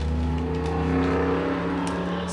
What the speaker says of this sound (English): I guess the car show is over, so they're all leaving.